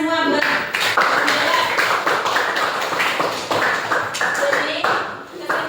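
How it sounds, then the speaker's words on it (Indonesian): A classroom breaks into applause for a student after a lesson on gender equality, dense overlapping hand claps filling the room steadily for several seconds with voices mixed in. "Tepuk tangan semua buat."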